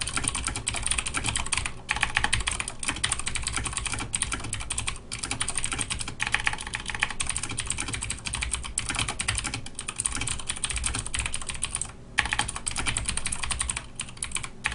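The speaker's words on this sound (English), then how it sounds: "My keyboard's really loud. I own something called the DOS keyboard. It's a mechanical keyboard" Rapid, continuous typing on a loud mechanical DOS keyboard gives dense, close clattering keystrokes with a few brief pauses, and no talking.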